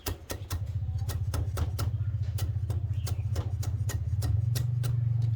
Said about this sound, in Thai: หั่นไปเลยให้ละเอียดนะครับรากผักชี